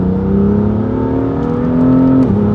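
A BMW M2 Stage 1 of 430 horsepower with a Milltek exhaust, accelerating in Sport Plus mode: a loud, close engine note climbing steadily in pitch, then a sudden drop as it shifts gear.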